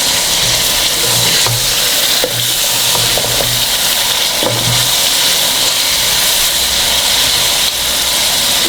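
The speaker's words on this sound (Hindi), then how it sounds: "पानी का थोड़ा छींटा लगाएंगे।" Chicken daleem sizzles and fries steadily in a pan after a splash of water, a loud continuous hiss with occasional stirring knocks and clatters.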